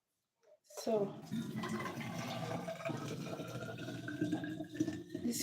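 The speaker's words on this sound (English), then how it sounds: "this is hot water." Hot water pours steadily into a container for flax preparation, starting abruptly after a moment of silence and running continuously, close and fairly loud.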